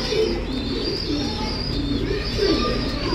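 Racing pigeons in a loft coo softly and repeatedly, low rolling calls close by over a steady background hum, with no speech.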